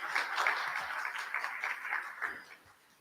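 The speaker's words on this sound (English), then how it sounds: "Give yourself a round of applause." Audience applause at a parish meeting, a steady patter of many hands clapping that holds for a couple of seconds, then thins and fades toward the end.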